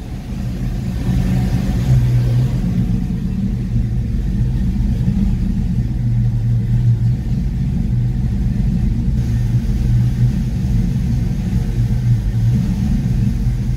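A Fox-body Mustang engine idles with a steady low rumble, running evenly and continuously without revving.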